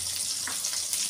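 Chopped onion sizzling in hot oil for an unpolished rice khichdi, a steady close frying hiss over about a second.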